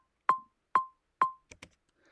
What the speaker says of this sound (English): The next button is the click track or metronome.